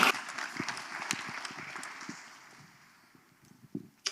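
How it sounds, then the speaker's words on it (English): Applause for a presenter at an event session, a burst of clapping that thins out and fades over a few seconds, with a couple of louder claps near the end. "So round of applause for Kaylin."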